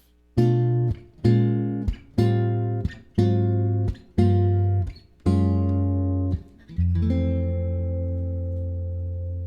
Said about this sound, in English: this is a really common intro/ending called the sharp 4 intro or ending